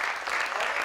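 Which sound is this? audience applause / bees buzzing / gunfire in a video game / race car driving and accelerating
audience applause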